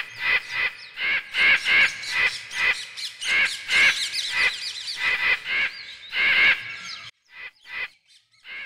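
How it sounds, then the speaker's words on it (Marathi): A flock of crows caws loudly and harshly, a rapid run of about a dozen rasping calls in an uneven rhythm, close and clear, trailing off into a few scattered caws before falling silent. "कावळ्यांची कावकाव भयानक दाटली."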